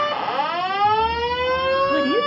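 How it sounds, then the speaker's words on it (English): Fire alarm sounding indoors, a loud, sweeping siren-like tone with rising and steady harmonic pitches that carries on continuously over a brief stretch. "That is the fire alarm."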